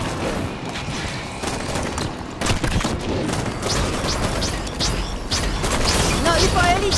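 Rapid gunfire and explosions in Halo 5 co-op on Legendary difficulty, sharp repeated shots and crashing impacts running throughout, with voices talking over the combat.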